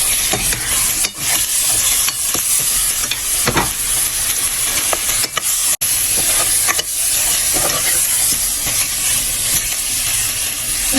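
Rohu fish pieces and a fish head fry in hot oil with a loud, continuous crackling sizzle, broken by occasional scrapes and stirring knocks close by.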